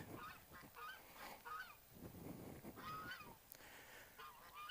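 Geese honking repeatedly and loudly, several birds calling over one another in harsh, overlapping bursts throughout.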